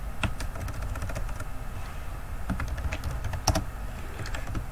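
Typing on a computer keyboard, with quick, irregular clicks and key taps running steadily throughout, close and fairly loud over a low background hum, with no speech.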